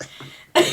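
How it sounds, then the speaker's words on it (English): A single short, sharp cough close to the microphone, following a brief moment of quiet breathing. "I was coughing over you"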